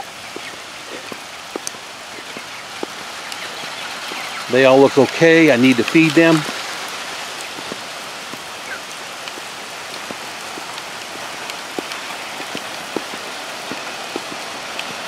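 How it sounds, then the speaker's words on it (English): Steady rain patters down on a farm with scattered distinct drops throughout, while a person speaks briefly near the middle. "Here comes the rain."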